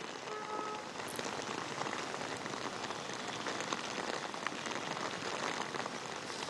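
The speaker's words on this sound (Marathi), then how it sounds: "नक्कीच श्वेता, गेल्या काही दिवसांपासून मुंबईसह उपनगरामध्ये पावसाची संततधार जी आहे ती आपल्याला सध्या पाहायला मिळते।" Steady monsoon rain falls in Dadar, Mumbai, near Shiv Sena Bhavan, a continuous dense patter on surfaces with no voices over it.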